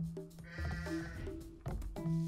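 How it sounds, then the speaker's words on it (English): Sheep in Age of Empires II bleat in several short, close calls, one after another, over faint game background sounds. "Shut up, sheep!"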